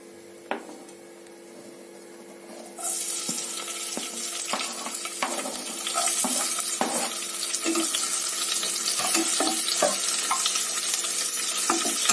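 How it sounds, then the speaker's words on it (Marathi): Green chillies and garlic hit hot oil in a pan for methi bhaji. There is a sharp tap, then a sudden loud sizzle that keeps crackling steadily, with scattered pops and stirring scrapes. "छान मिरची लसूण आपण आता फ्राय करून घेत आहोत."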